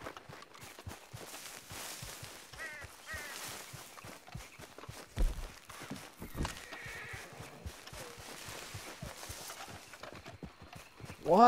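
Horse hooves clip-clop steadily in Red Dead Online, a western video game, with a whinny and neighing calls breaking through near the middle and a louder burst at the end, over busy in-game ambience.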